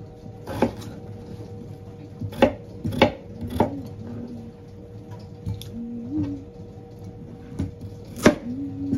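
A knife roughly chops carrot on a cutting board for Jamaican stew pork, sharp irregular thunks ringing out one at a time over a faint background hum.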